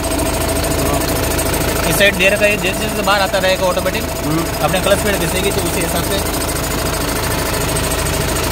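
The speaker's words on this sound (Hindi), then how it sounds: "आप इंजन की साउंड सुन सकते हैं" A BharatBenz 1917R truck engine idles with a steady, loud diesel clatter and knock close by, continuing under someone talking.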